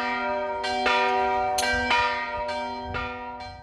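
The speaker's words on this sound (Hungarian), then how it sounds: "16 óra 32 perckor megkondult a templom harangja" A church bell at a Catholic parish church tolls in slow, regular strokes, each strike ringing out with a rich, lingering hum, loud and fairly near, with no talking.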